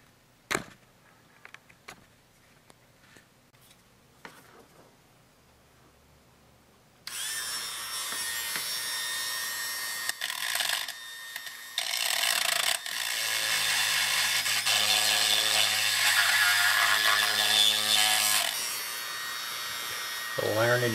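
A cast iron cylinder head from a 1979 Triumph Spitfire 1500 is machined and ground. Scattered clicks and taps open the clip, then a loud, continuous buzzing grinder takes over, wavering in pitch as it bites into the metal.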